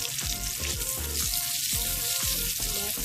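Peeled saba bananas sizzle and fry in melted butter in a pan, a steady close crackle with a few soft scraping stirs.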